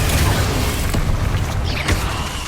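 The Confringo blasting spell in the video game Hogwarts Legacy: booming explosive bursts with crackling mechanical debris, two or three hits in quick succession over a busy game backdrop.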